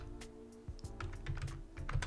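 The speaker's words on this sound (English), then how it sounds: "To clear our program from memory, we just type new." Rapid keystrokes on a 1982-era home computer keyboard as a BASIC command is typed, a quick cluster of close, crisp clicks with a few heavier key thumps, no voices.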